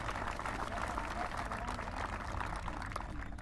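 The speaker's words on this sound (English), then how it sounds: "Let's give them a round of applause." An audience applauds at a Wall That Heals memorial ceremony, a steady continuous wash of clapping held at an even level for the whole stretch, with no voices standing out.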